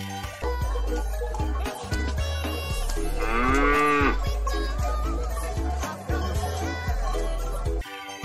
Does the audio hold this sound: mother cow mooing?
yes